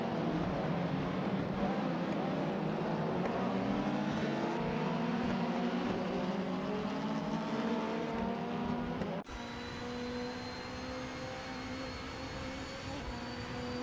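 Race cars lapping in a BTCC racing video game, several engine notes overlapping and rising through gears, loud and continuous, with an abrupt cut to a steadier single engine tone partway through.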